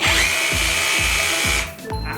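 TOTAL TRHLI202287 cordless three-mode rotary hammer drill running in hammer-drill mode for concrete: a close, loud motor whine with a fast regular hammering pulse. It briefly stops, then starts again.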